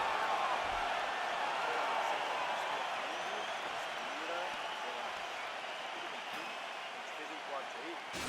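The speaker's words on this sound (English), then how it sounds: "So the crowd voicing its appreciation after that round." Crowd noise from the EA Sports UFC 4 video game, a Thiago Santos vs Glover Teixeira bout: a steady arena roar of cheering and applause fills the whole stretch, broad and fairly loud, with a commentator's voice running over it.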